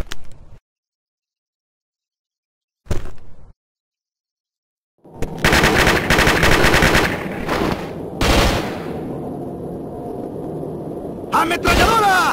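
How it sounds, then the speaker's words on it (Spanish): Machine gun fire in the video game Call of Duty Modern Warfare Mobilized, a winter assault mission, with short isolated shots, then sustained loud automatic bursts mixed with explosions and shouted voices. "¡Ametralladora!"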